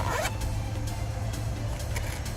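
A Cosatto Supa stroller's fabric zipper being pulled, a quick raspy zip near the start, followed by steady low rumbling background noise.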